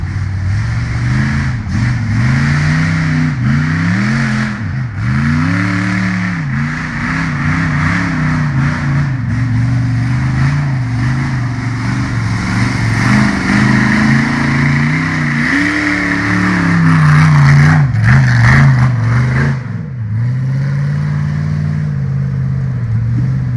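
An off-road race vehicle's engine revs hard while climbing a hill at an offroad racing event, loud and sustained with repeated rising and falling throttle surges and no talk over it.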